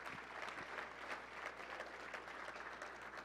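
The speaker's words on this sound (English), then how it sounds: "big round of applause for all those coaches right there" An awards-show audience applauds the coaches with steady, dense clapping, fairly faint and heard on its own without talk.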